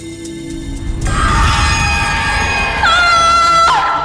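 A woman lets out a long, loud, high-pitched scream that is close and piercing, sustained for about three seconds and rising in pitch toward the end.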